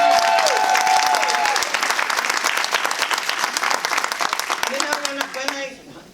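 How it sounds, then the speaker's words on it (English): A book-event audience applauds loudly and steadily, with dense clapping through the whole stretch. A voice speaks over the start and again near the end. "don't stop clapping."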